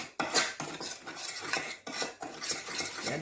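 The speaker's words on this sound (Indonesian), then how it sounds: "Ini diaduk" A spoon scrapes and clinks around a bowl as dim sum filling with seasonings is stirred, in repeated close rhythmic strokes with no voices.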